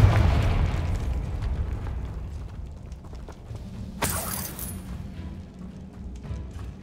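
A Confringo fire spell explosion in Hogwarts Legacy: a heavy rumbling blast at the start fades into a low roar, followed by a sharp crackling burst partway through, loud and close with no voices.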